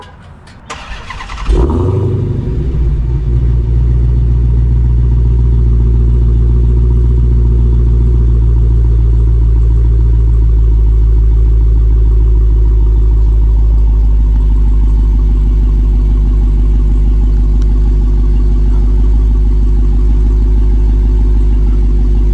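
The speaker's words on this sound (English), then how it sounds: "We're going to get you guys first a startup of the car, just let you guys hear it." A car on Nitto NT555 R2 tires cranks and fires up, catching with a loud roar before settling into a steady, deep rumbling idle that continues close by for about twenty seconds.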